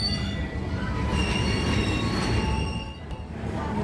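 The Cikuray passenger train departs Leles station with a steady, close rumble of wheels on rails and sustained high-pitched wheel squeals throughout, no voices.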